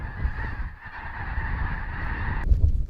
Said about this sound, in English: A lot of birds there.